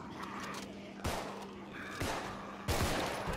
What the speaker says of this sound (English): I shot that zombie in the head